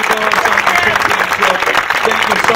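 Applause from the crowd at the Hawaii Tennis Open tennis tournament ceremony, a dense, steady clapping that fills the whole short stretch, close and loud, with a voice faintly underneath.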